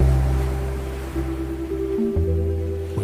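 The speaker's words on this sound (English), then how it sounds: "Ocean waves." Steady ocean surf from a San Francisco beach, a continuous loud low roar and wash of waves with no pauses or voices.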